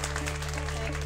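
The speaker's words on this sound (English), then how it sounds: "So thank you very much for applauding." A fashion show audience gives a brief burst of dense clapping over a steady low hum.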